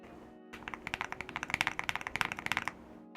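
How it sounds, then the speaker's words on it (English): Fast typing on a thick mechanical keyboard, a steady run of crisp, fairly close clicky keystrokes for about two and a half seconds, with no talking. "It's a thick keyboard."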